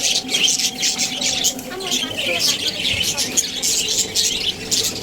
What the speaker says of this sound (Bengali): টিয়া। তুমি খাবার খাবা? এটা কি পাখি?